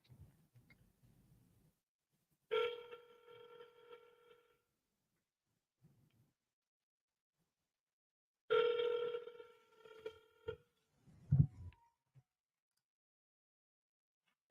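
Two quiet bursts of a telephone ringback tone sound several seconds apart on a call that goes to voicemail, followed by a short low thump, with near-silence in between.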